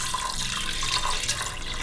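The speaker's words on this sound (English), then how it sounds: "Basically you're just covering the cholas with the water" Water pours steadily into a cooking pot holding chickpeas with turmeric, salt and a cinnamon stick, making a continuous close splashing rush with no talking.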